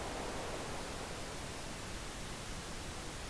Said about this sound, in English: we have about 600 hertz here, and this is what it sounds like when I boost the gain